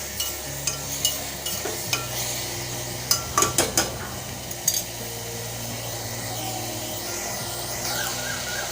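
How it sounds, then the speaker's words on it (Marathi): Vegetables with ginger garlic paste and coriander sautéing in oil for masale bhat, heard as a soft steady sizzle with scattered metal clinks and scrapes of a spoon on the pot, a brief cluster of sharp knocks in the middle, no speech. "आलं लसूण पेस्ट थोडीशी कोथिंबीर आणि आलं लसूण व सर्व भाज्या तेलामध्ये परतून घेऊया"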